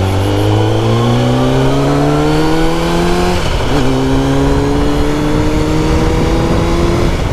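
A refreshed 1994 Kawasaki ZX9R motorcycle engine runs steadily and loudly up close, its revs rising slowly with a strong droning hum, dipping briefly midway, then climbing again.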